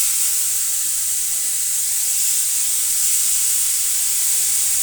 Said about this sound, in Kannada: ಅದೇ ಪಾನ್ಗೆ ನಾವು ಅರ್ಧ ಕ್ಯಾರೆಟು ಮತ್ತು ಅರ್ಧ ಮೂಲಂಗಿನ ಸೇರಿಸೋಣ